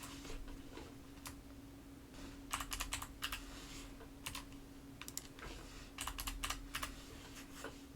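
A password is typed on a computer keyboard with soft, scattered keystroke clicks in short bursts over a low steady hum. The keys sound close but quiet.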